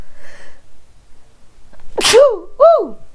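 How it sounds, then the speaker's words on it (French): A single sharp sneeze with a quick inhale leading into it, fairly close, followed by a short voiced exclamation. "Oh, j'ai envie d'éternuer, excusez-moi."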